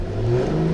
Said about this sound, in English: I also am going to go ahead and just turn the vehicle on